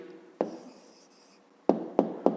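A pen writes an answer by hand on paper, starting with a soft scratch and a long stroke, then three short distinct taps and strokes close by in a quiet room.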